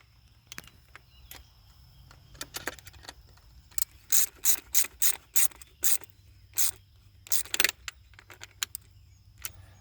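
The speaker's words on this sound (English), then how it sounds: "All I'm going to do is just tighten this up now." Ratchet with a 1/2 inch or 13 mm socket tightening a bolt while a rigid PVC fence gate is installed: scattered clicks build into a run of sharp, evenly paced ratcheting bursts, close and clear over quiet outdoor background.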